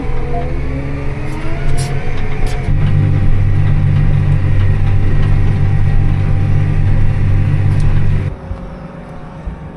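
A farm tractor's engine runs loudly and steadily, its pitch rising into a stronger, sustained hum before cutting off abruptly near the end, with no talking.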